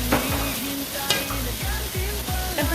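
Shrimp and bitter melon stirred in a frying pan, with steady sizzling and a series of repeated scraping strokes of a utensil against the pan, close and without talk.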